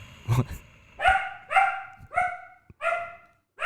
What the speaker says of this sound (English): you got a dog in studio